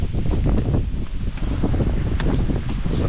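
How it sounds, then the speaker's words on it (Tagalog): Strong wind buffets the microphone in continuous loud gusts and rumble at a seaside car camping spot in Lobo, Batangas, with no voices. "Sobrang lakas ng hangin."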